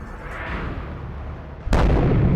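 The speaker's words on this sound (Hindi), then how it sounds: "आग उगलती हिंदुस्तानी तोप के गोले" Indian army artillery shells strike at the border, a continuous loud rumble of distant fire broken by one sharp, heavy blast near the end.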